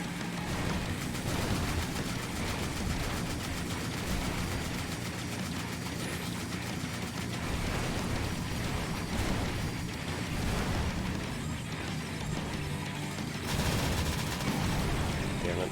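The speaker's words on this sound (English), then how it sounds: "there's just so much death involved with when you fire the damn thing." The hyper shotgun in the space shooter game Steredenn fires in dense, continuous bursts of explosive blasts, a loud relentless roar of gunfire and detonations lasting throughout.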